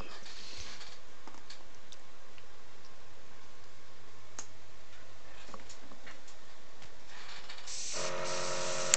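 Airbrush spraying grey primer onto Guildball miniatures for zenithal priming, a steady soft hiss throughout with faint ticking, and a louder, brighter burst of spray near the end.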